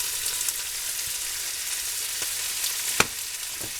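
About 1.5 pounds of chuck roast browning in a hot pan, a steady close sizzle with soft spatters and a sharp pop near the end, and no voices over it.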